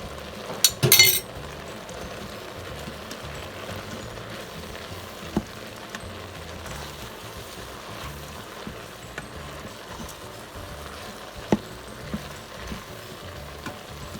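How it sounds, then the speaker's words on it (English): Vegetables sizzle gently in a pan with chili powder for a veggie chili, a steady low frying hiss with a brief utensil clink near the start and a few soft scrapes of stirring. "I'm going to saute it with the veggies."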